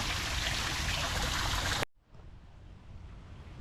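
A small waterfall in a garden at the Sheraton Maldives Full Moon Resort gives off a loud, steady rush of falling water; it cuts off suddenly, and a softer, more distant water sound carries on after.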